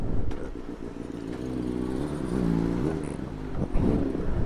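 A Vespa scooter riding through the streets at night, its small engine buzzing steadily up close, with some rattle and occasional throttle changes.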